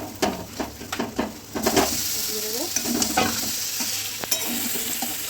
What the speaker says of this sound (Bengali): এবার একটু এঁচড় দিয়ে মশলাটা কষিয়ে নেওয়া হবে